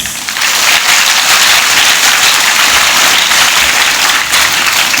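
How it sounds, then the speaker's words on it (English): Loud, steady applause from a school audience at an investiture ceremony for newly installed student leaders, a dense wash of clapping that holds evenly for several seconds. "Let's put our hands together and cheer our leaders."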